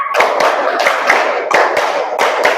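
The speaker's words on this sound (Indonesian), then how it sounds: "Iya, tepuk tangan." Hand clapping during a classroom concentration-clap exercise, with about a dozen sharp, loud claps close by in uneven clusters of two and three, and no talking over them.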